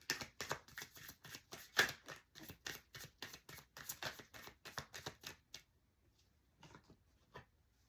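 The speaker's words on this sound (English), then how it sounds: "Okay, last shuffle." A deck of tarot cards is shuffled in a quick run of crisp, riffling card snaps that stop abruptly about two-thirds of the way through, followed by a few soft handling taps close by.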